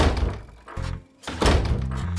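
A cartoon door is swung open and then slammed, giving two solid thumping impacts about a second apart, each followed by a short rumble. No voices are heard.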